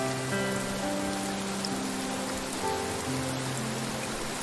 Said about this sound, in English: And I can see the rain in the distance.